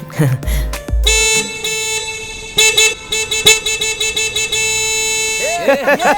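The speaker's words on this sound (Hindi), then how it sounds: "इतनी ट्रैफिक में तुम्हें जोर जोर से हॉर्न बजाने की क्या जरूरत है?" Car horns honk in a traffic jam, with a low thump, then several loud sustained blasts and repeated short toots overlapping one another, and voices are briefly mixed in.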